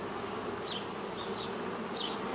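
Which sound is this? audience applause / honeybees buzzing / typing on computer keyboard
honeybees buzzing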